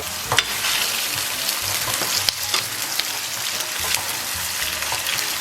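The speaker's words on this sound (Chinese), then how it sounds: "切好的葱蒜给它下里边， 继续给它煸炒一下" Scallion and garlic stir-fried with bean paste in a wok, a loud, dense sizzle with repeated spatula scrapes and clatters, close up and continuous.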